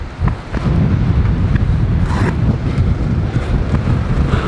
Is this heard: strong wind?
yes